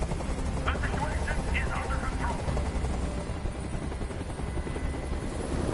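Helicopter rotor noise in the Detroit: Become Human game demo, a steady loud thumping drone filling the whole span, with a few brief voice-like bursts early on.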